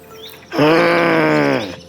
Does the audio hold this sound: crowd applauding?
no